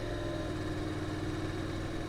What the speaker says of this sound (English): Idles along around here, it's beautiful.